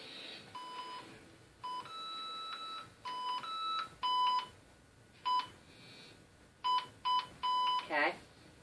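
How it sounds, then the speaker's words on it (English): A vibration sensor beeps in short electronic tone bursts, about ten in an irregular series with gaps between, triggered by footsteps nearby; a brief fluttering chirp comes near the end. "when it beeps, it means it's picking up vibrations of footsteps"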